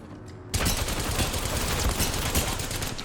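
Dense video game gunfire erupts after a brief quiet opening, a loud sustained fusillade of rapid automatic shots with continuous crackle through to the end.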